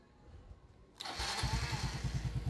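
A motorcycle engine started with a push-button starter on a mechanic's bench, with a quiet stretch before the motor catches and settles into a steady, close, throbbing idle.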